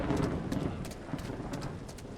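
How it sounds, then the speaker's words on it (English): Faint, rhythmic clip-clop of horse hooves in the distance in a video game, a steady trotting pattern with no talking. "I can hear horses in the distance."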